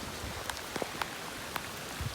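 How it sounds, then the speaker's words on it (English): Heavy tropical-system rain pours down steadily, a dense close hiss with a few sharper drop taps standing out. "Raining pretty good."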